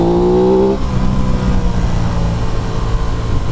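An Aprilia RS 660 motorcycle engine screams at high revs, then drops after a gear change into a loud, steady, close mechanical drone.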